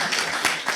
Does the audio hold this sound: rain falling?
no